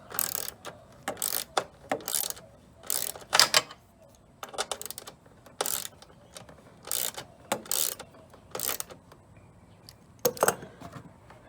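A ratchet wrench tightens bolts on a Craftsman EZ Walk walk-behind mower, giving short bursts of quick clicking separated by pauses, close up and fairly quiet, with no voices.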